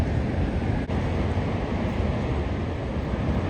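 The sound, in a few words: water roaring at Niagara Falls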